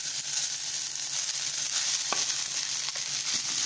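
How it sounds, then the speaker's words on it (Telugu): Rice fries with ajwain seeds in a pan, a steady, close sizzle running throughout, broken by a few soft scrapes and taps from stirring. "ఇందులో రైస్ వేద్దాం."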